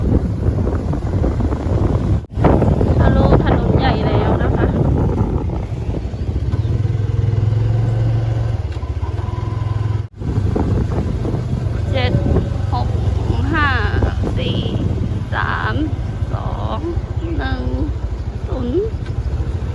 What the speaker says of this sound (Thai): ลมแรงมาก ดูต้นไม้สั่นหมดเลย